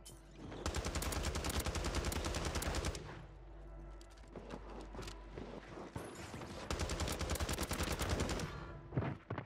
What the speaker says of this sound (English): Wow, Motion's actually shooting?